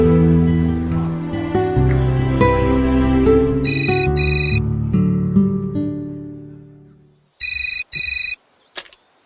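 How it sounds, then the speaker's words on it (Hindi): A phone ringing on an outgoing call in a TV drama: a musical ringtone plays loudly, then two distinct electronic ring bursts sound alone, with a short blip after. "फोन निकाल, अभी कॉल कर।"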